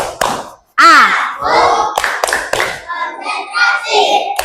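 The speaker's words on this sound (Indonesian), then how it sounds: "kita mau tepuk konsentrasi dulu" Schoolchildren in a classroom do a rhythmic concentration clap, sharp hand claps set between group chanting voices in a quick, patterned beat.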